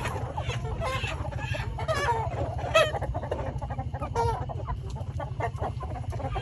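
Chickens cluck steadily through a night in the Mekong Delta countryside of southern Vietnam while a rooster crows once partway through, close and clear.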